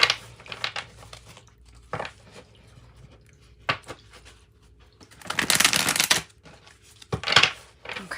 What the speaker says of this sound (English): we're going to cut the deck for this one.